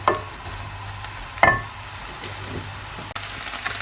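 Beef mince with onions and peppers sizzles gently in a fairly dry pan with no added oil, a steady frying hiss with a brief clink and stir near the middle.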